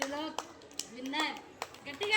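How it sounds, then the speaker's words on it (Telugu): Children clapping for a game winner at a recreation session, scattered sharp claps mixed with a child's speech and chatter nearby. "Very good. క్లాప్స్ కొట్టండి రా త్రిలోక్ గానికి."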